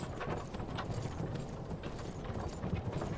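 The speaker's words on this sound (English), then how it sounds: "It's my favorite horse." Horse hooves clip-clop at a steady trotting rhythm in the video game Myth of Empires, a continuous, moderately quiet patter of quick repeated hoofbeats.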